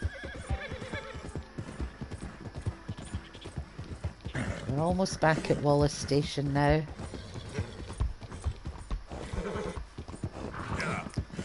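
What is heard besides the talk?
horse galloping and neighing in video game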